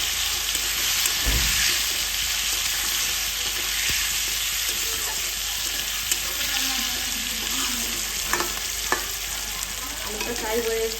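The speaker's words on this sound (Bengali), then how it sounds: "একসাথে আলুর সাথে ভাজা হয়ে যাবে আর গলেও যাবে।" Potatoes frying with tomato paste in a pan for a cauliflower and bori vegetable curry, giving a steady close sizzle with occasional stirring scrapes and clinks, no voices.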